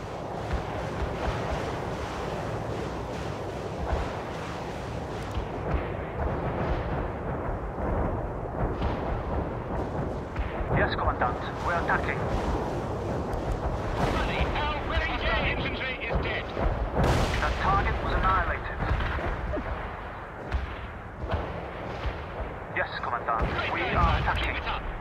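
Sustained artillery barrage in the World in Conflict Soviet Assault game, a dense rolling rumble of repeated heavy booms and blasts that continues throughout, with radio-style voices talking over it.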